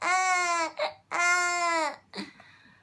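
A baby cries in two long wailing bursts, each followed by a short catching breath or whimper, close and fairly loud with quiet gaps between.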